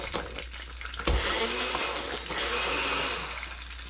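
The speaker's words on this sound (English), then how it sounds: "So I put the eggplant in, and I'm just gonna start grinding it up." Eggplant is ground in a hand-shaken manual chopper, giving a continuous rough, churning whir with slight rattles, close and fairly loud, with no talking.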